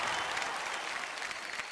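An award show audience applauds for Bachchan, a short burst of dense, continuous clapping that sounds somewhat distant and soft.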